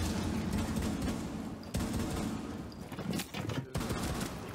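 Shotgun blasts and other gunfire in a first-person shooter video game, several sharp loud bursts over dense continuous game noise and music.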